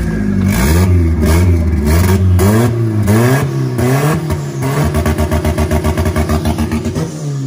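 A black Honda Tiger motorcycle engine revs hard at close range, rising and falling through several loud throttle blips before settling into a fast, pulsing idle, with no voices over it.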